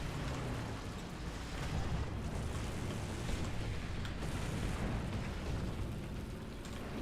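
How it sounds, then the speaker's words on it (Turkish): Explosions rumble through a War Thunder tank battle, a steady low roar of distant blasts and booming fire that fills the whole stretch with no voices. "Patlıyor lan. Ne patlıyor oğlum orada?"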